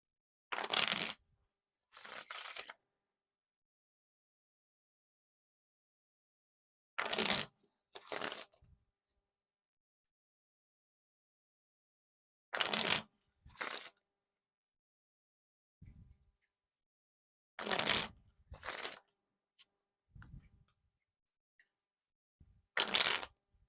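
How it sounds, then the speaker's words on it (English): Bicycle Denim playing cards riffled in a bridge shuffle, paired crisp fluttering bursts repeated every few seconds with silence between, close and clear. "And now for the wiffle shuffle or bridge shuffle."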